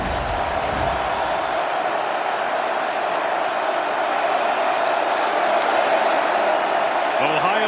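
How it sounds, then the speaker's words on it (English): A big Ohio State Buckeyes football stadium crowd roars steadily through a third down in a playoff game, a dense continuous wash of cheering that swells slightly near the end, with no talk on top. "this Buckeyes crowd coming to life for this first 3rd down here in the second half"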